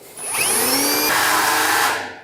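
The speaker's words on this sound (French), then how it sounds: "j'utilise une scie cloche qui peut attaquer le métal" A loud, continuous whine of a power drill driving a hole saw into metal, with a rising screech that holds steady for about two seconds before cutting off.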